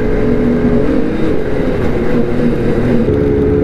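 Loud, close engine drone of a snowmobile while riding on a bumpy, narrow trail, holding a steady buzzing pitch throughout with no talking.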